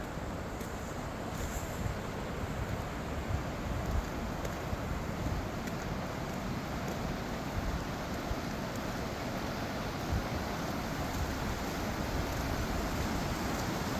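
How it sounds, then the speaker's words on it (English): A creek flows beside a campsite with a steady, broadband rushing of water that stays even and continuous for the whole stretch, with no voices. "Of course, you got your creek."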